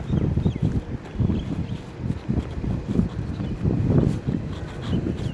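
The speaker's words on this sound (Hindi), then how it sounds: "हवा चल रही है मुल्तान में और दरख्तों से आपको अंदाज़ा हो रहा होगा।" Wind gusting through old trees in Multan on a warm day, heard as a steady low rumble that swells and eases in several gusts, buffeting close to the microphone with no voices.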